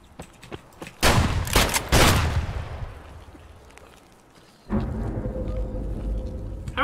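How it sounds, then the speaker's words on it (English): Gunfire in Escape from Tarkov: several sharp, loud shots crack near the start, then a pause before a heavier, sustained burst of firing and rumble, with no talking. "How many times do I shoot this guy and still die?"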